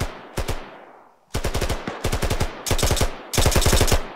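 Automatic suppressing fire in ArmA 3 during a raid on a factory: repeated loud, close bursts of rapid shots, each burst several rounds long with short pauses between, growing denser and longer toward the end.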